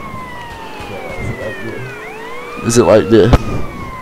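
A wailing police siren in GTA San Andreas sweeps up and down in a synthetic, game-like tone, with a voice briefly talking over it and a short burst of clatter near the end.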